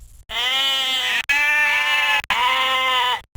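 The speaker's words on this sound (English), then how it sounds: "His sheep were roaming the highway." Sheep bleat three times in a row from loose animals roaming a highway after a rancher's truck crash, each call long, loud and close, with brief gaps between.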